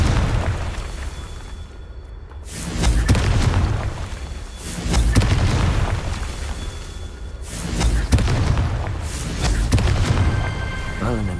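Confringo fire spells explode repeatedly in Hogwarts Legacy, loud booming blasts in waves over dense game noise, with voices talking between them.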